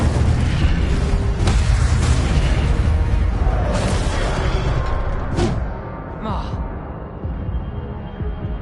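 Spells cast in the video game Hogwarts Legacy, a dense, loud barrage of magical bursts and booming explosions over a continuous rumbling score, fading toward the end with a couple of softer pops.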